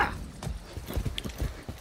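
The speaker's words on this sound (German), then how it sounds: "Nein, hier ist ein Pferd." A horse clip-clops in the video game Far Cry 6, a few close, uneven hoof thuds in a short burst.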